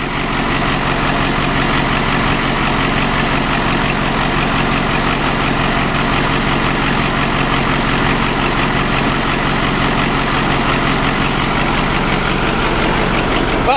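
An old 4-150 engine runs steadily after starting, a loud, even idle with a low rumble and constant mechanical clatter that continues unchanged throughout.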